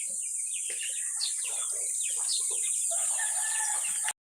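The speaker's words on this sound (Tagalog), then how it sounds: "Guys, magpapatuka ako ng manok." Chickens being fed cluck and crow steadily, a busy flock chattering up close for about four seconds before cutting off abruptly, with no talking.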